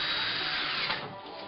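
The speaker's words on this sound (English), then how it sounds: "we'll put in the final screws in this one" Power drill driving the final screws into a wooden back slat of an Adirondack glider, a short close whirring burst that drops away partway through as the screw seats.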